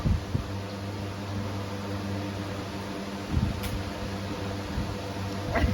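A household air cooler blows air with a steady whooshing hum and low tonal drone that holds throughout, with a few faint knocks and clicks over it.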